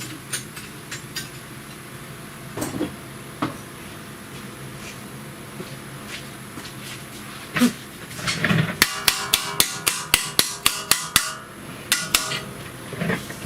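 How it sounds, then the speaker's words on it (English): A hammer striking a Dodge Grand Caravan strut during replacement: a few scattered knocks, then a rapid run of loud, sharp metallic blows close by. "Let me grab a hammer."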